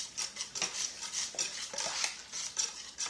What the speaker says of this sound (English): you have to stir till it's okay.